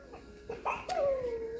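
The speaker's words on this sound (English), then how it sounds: "These are Tessa's puppies." Vizsla puppies about five and a half weeks old let out a few soft whimpers and one longer, sliding whine, faint and close, with brief squeaky yelps leading into it.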